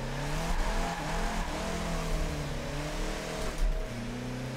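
A Ford Ranger Raptor drift truck slides sideways at low speed in second gear, its engine droning steadily and close with wavering pitch, tire noise mixed in, no voices.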